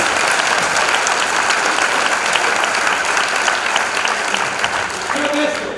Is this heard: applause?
yes